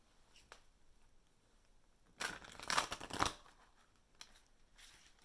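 A brand new oracle card deck being shuffled by hand, a quiet flurry of riffling card noise lasting about a second amid soft handling sounds, with a few light clicks before and after.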